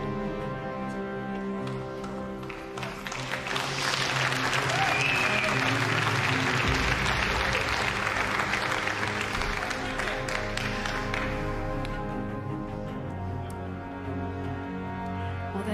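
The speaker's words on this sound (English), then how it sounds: "Clap." Spectators at the 2022 UK Open Pool Championship final applaud the players, the clapping swelling from a light patter into a dense, sustained burst before easing off.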